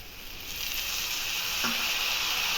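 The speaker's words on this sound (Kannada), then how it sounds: "ಒಂದು ಐದು ನಿಮಿಷ ಚೆನ್ನಾಗಿ ಫ್ರೈ ಮಾಡಬೇಕು ಟೊಮೆಟೊ ಚೆನ್ನಾಗಿ ಫ್ರೈ ಆಗಿದೆ" Chopped tomatoes fry in oil in a pan for poha upma (avalakki uppittu), giving a continuous, close sizzle that holds steady and builds slightly in loudness, with no talking.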